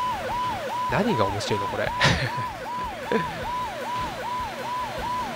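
Police car sirens in the Choro Q HG video game wail in a fast, repeating up-and-down pattern, holding steady at moderate volume while someone talks over them.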